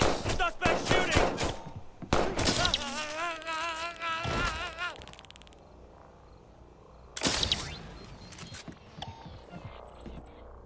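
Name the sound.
gunfire in the video game Watch Dogs 2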